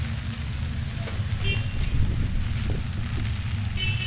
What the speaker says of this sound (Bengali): বাতাস হচ্ছে ভাই, মনে হচ্ছে আমার ছাতি উড়াই নিয়ে দেবে এখন